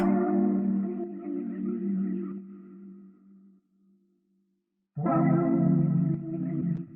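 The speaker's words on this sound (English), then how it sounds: "Real pretty, real underwater vibe sound." A sample run through an underwater-style vintage effects chain in FL Studio, with warm, murky tones that fade out around the middle, fall silent for a moment, then return loud and full for the remainder.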